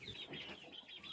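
Soft, continuous clucking and chattering from an Easter Egger chicken settling down for the night in a pasture flock, close and steady with a faint flutter of wings.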